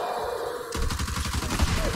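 Rapid gunfire erupts in the Back 4 Blood video game, a dense burst of close, loud shots that cuts in sharply after a quieter stretch of ambient hum and keeps hammering steadily to the end.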